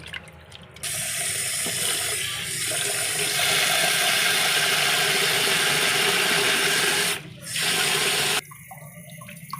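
Beef pieces being washed with salt and water in a bowl, a steady rush of running water and sloshing that fills most of the clip, close and fairly loud, with brief dips and no talking.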